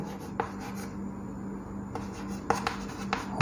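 Chalk or marker writing on a board during a class 12 matrices lesson, faint repeated scratchy strokes and taps at a steady background level, with no talking.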